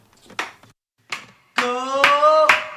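A few sharp, separate hand claps in a podcast studio, spaced well apart, followed by a sustained tonal vocal sound that rings over another clap or two.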